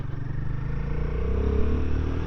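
A 2024 Royal Enfield Guerrilla 450 single-cylinder motorcycle engine rumbles steadily while riding, a continuous low throb that rises slightly in pitch, recorded close with no talk.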